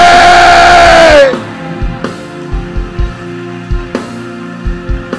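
A church congregation lets out a loud, sustained shout that cuts off after about a second, followed by softer rhythmic thumps and background sound.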